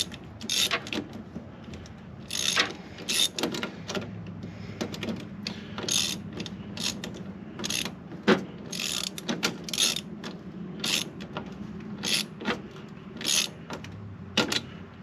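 A 9/32 ratchet cranks worm clamps on a Fox Body cold air intake, giving quick bursts of close, crisp clicking with short gaps between runs and no talk.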